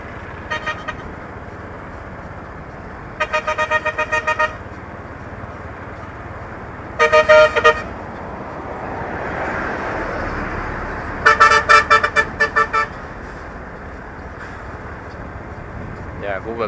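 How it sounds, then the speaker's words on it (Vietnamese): Trucks and traffic passing on a road beside a sheep field near an industrial zone under construction in Suối Nghệ, Bà Rịa–Vũng Tàu, with a low rumble, several bursts of loud honking horns, and someone talking over it. "cái xe tải đi qua lại rất là nhiều"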